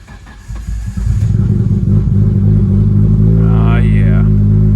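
A Nissan Skyline R32 GTR idles while warming up, its engine catching after a brief quieter start and then settling into a steady, loud, close low rumble, with a short talking voice briefly audible over it.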